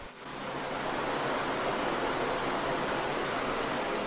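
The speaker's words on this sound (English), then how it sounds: "The water from the Gihon spring still flows here to this day" Loud, continuous rushing water from the Gihon spring in Jerusalem fills a tunnel, a dense steady roar with no pauses, flowing close by in the enclosed passage.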